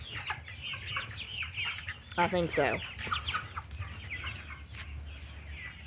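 Rhode Island Red hens cluck in rapid bursts nearby, with one louder rooster-like call in the middle; a person speaks briefly underneath, on a small farm in 16°F weather.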